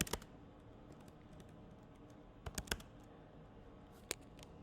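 Typing Python code on a computer keyboard, a short burst of sharp key clicks at the start, then scattered single taps and a quick cluster of keystrokes, close and fairly quiet in a still room.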